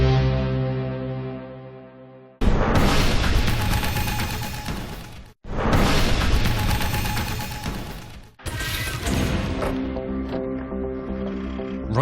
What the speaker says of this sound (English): why is Hitler able to survive this powerful explosion?